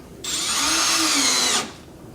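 A power drill drives small screws into a doorknob, one steady whine lasting about a second and a half, close and loud, with no talk over it.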